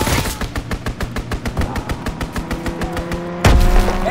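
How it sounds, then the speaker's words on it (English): Rapid aerial strafing gunfire in Call of Duty, a steady rhythmic stream of loud bursts lasting several seconds, ending in a heavy explosive boom. "Call for a strafing run."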